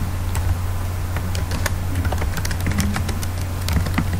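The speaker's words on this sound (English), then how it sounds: "you can check your Java version by typing" Someone types a Java version command on a computer keyboard, giving a steady stream of close, crisp key clicks over a constant low hum, with no voices.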